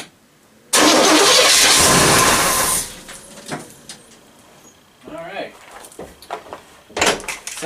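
A 1973 GMC truck that sat unused for years, its engine cranking loudly for about two seconds and briefly catching, followed by scattered clunks and knocks as someone talks nearby.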